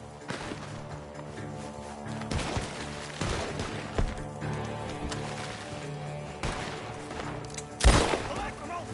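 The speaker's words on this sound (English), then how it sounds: "The gunshots are coming from that barn!" Scattered gunshots in Red Dead Redemption 2 crack in bursts from a barn, one louder blast near the end, amid game sound effects and background chatter.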